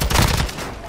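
Gunfire in Call of Duty: Modern Warfare II, a quick loud burst of several rapid shots up close, trailing off into a brief echoing tail.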